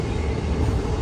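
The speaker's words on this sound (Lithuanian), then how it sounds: "čia jau važiuoja traukinys" A freight train rolls through a small-town station, a steady low rumble and rattle of rail cars that holds constant and close for the whole moment, with no voices.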